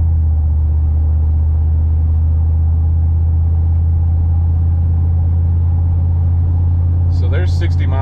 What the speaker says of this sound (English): I hear just as much wind noise as exhaust.